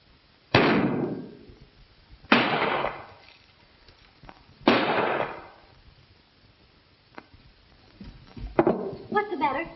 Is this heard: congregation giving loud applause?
no